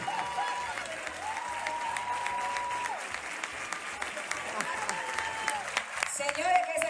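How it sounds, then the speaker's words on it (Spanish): Sustained studio-audience applause honoring an actress and comedian on a Dominican morning television show, steady and moderately loud throughout, with a voice speaking over the clapping. "que se siente el aplauso para esta excelente artista, completa, actriz, humorista"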